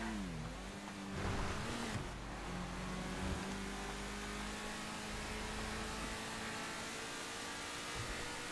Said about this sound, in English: I thought that's an unusual car noise. It sounds like a thruster engine.